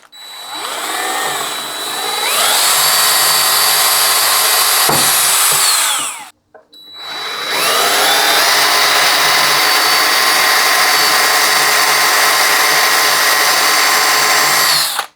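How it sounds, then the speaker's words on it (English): A power drill whirs loudly at full speed drilling a small screw hole in wood, stops briefly, then spins up again for a second long, steady run. "drill my small screw hole"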